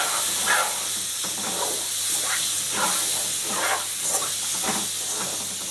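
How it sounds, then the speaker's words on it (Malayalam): Milk poured into hot gram flour (kadalamaavu) halwa mixture, giving a steady loud hiss and sizzle with soft bubbling pops across the whole stretch. "അങ്ങനെ നമ്മൾ മിൽക്ക് ഒഴിച്ചു."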